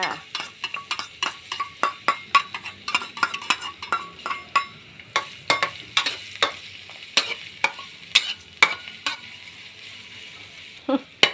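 Pork with garlic is stir-fried for pad see ew, a spatula clattering and scraping rhythmically against the pan over a steady sizzle, close and fairly loud.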